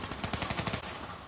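A rapid burst of automatic gunfire rattles in Black Ops 3 on the Metro map, about a dozen sharp shots in quick succession that stop abruptly, with no talk over them.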